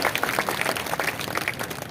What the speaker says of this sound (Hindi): आप लोग जोरदार ताली बजा करके माननीय मोदी जी का अभिनंदन करिए